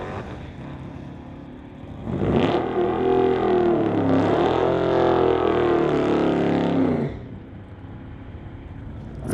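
Drag race between a 1998 Dodge with a 360 and a 2010 Dodge running a 345 Hemi: engines roar up loudly at launch, hold a rising, shifting wail for several seconds, then drop away, with no voices.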